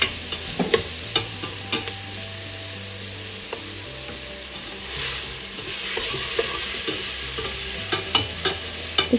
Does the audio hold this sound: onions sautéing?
yes